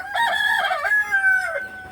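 A rooster crows close and clear in a backyard chicken coop, one drawn-out call lasting about a second and a half, with soft clucking around it.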